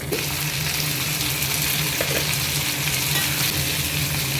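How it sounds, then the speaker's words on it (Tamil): Garlic and tomato sautéing in a pan for a Tamil vatha kuzhambu, giving a loud, steady, close sizzle and crackle that runs unbroken from start to finish with faint stirring scrapes. "பூண்டு சேர்த்துக்கலாம் நல்லா வதக்கிட்டு அதுக்கப்புறம் நம்ம தக்காளி ஆட் பண்ணணும்"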